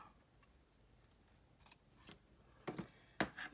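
Scissors trimming paper for a tall skinny handmade journal, a few crisp close snips spaced out in the quiet, growing louder toward the end with a quick double cut.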